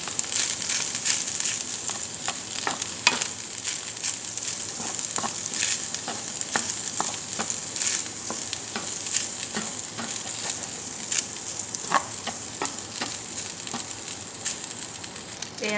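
Fried rice with soy sauce sizzles in a pan while a utensil stirs it, a steady hiss of frying broken by frequent scraping clicks and stirring taps throughout, close and without talk.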